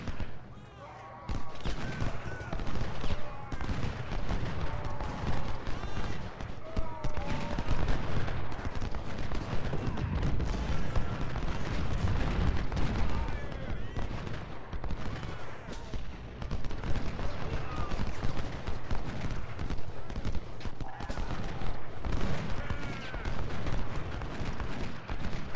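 Civil War battle in the Ultimate General strategy game: dense, continuous musket volleys and booming artillery fire roll on without pause, with a voice talking over the din.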